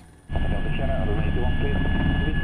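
An inspection helicopter flying over Limburg gives a loud, steady engine drone and rotor roar that starts abruptly and holds constant, close, with a high whine above it and speech underneath.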